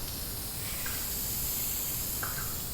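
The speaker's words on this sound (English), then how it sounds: "Spraying this on there just feels good." A continuous close hiss of an aerosol can spraying vinyl and fabric paint onto a car seat, steady and loud throughout, with a couple of faint higher squeaks.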